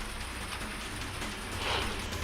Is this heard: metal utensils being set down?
no